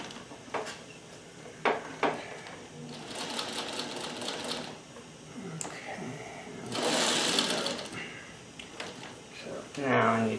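A Singer 301A sewing machine stitches a 5/8 inch seam on a shirt in close, rapid mechanical bursts separated by pauses and clicks, with a person talking quietly between the runs.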